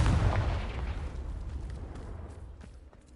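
Confringo fire spell blast in Hogwarts Legacy: one loud, close, booming explosion that decays over several seconds into a crackling rumble.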